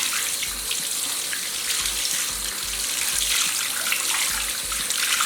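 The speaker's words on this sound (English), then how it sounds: "what I'm going to do is start by rinsing it out just with water" Tap water runs steadily into a sink as a makeup removal pad is rinsed under it, a close, continuous splashing rush with no talking.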